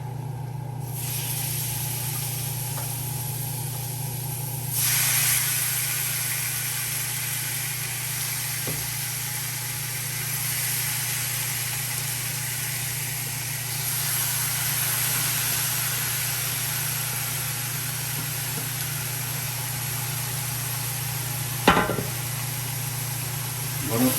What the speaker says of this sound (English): Then I'm gonna go ahead and add my pork.